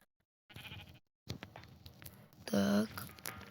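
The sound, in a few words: sheep bleating in Minecraft video game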